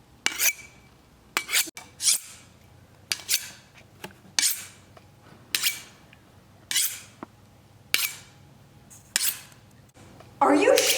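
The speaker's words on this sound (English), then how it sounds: "Are you sharpening your knife?" A knife being sharpened, heard as about nine separate bright rasping strokes spaced roughly a second apart, each one short and scraping, with a quiet background between them and a louder burst of noise at the very end.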